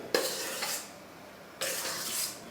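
A spoon stirs thick gluten-free chocolate cake batter in a bowl, making two scraping, swishing strokes close up, with a short pause between them.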